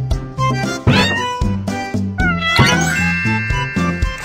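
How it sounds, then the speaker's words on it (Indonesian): An animated kitten hiding under a car in a Baby Bus children's game gives several loud, close meows in quick succession over bright, chiming game tones. "Berbahaya bagi anak kucing untuk bersembunyi di bawah mobil."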